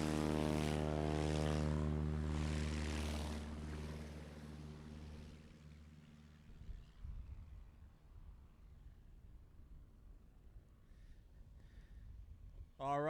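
A Kitfox STOL propeller airplane at a STOL competition in Gainesville, Texas, runs with a strong droning engine hum close by for several seconds, then winds down to quiet, distant outdoor noise.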